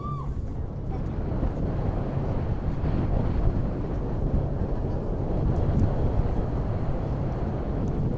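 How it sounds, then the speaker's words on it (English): Wind gusts across an outdoor college softball field, making a constant roaring rumble against the microphone that swells slightly but never lets up. "And as that wind kicks up,"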